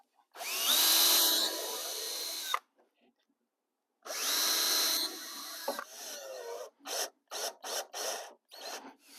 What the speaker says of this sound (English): I'm just going to screw these directly to this table